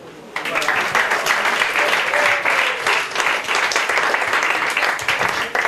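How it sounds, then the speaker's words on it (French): A live audience at a spoken-word and music show bursts into loud, steady applause for a performer, the clapping starting abruptly and holding strong throughout. "Je vous demande un tonnerre d'applaudissements pour Jean-Louis"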